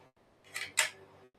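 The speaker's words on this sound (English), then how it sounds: "You send the bolt home, you break your shot, and then you cycle your bolt" A bolt-action rifle bolt is cycled with two quick, sharp metallic clacks close together, heard close and alone in a short burst.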